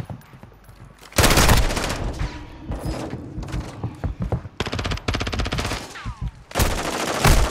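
Rapid automatic gunfire in Call of Duty, loud bursts of shots with short gaps between volleys, close and sharp, with no talk over it.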